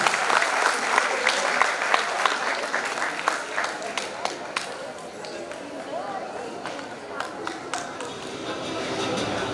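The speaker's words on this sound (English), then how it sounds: "A round of applause for the AVs, everybody." Loud, sustained audience applause for awardees at a Model United Nations conference ceremony, dense clapping filling the room with occasional sharper claps standing out.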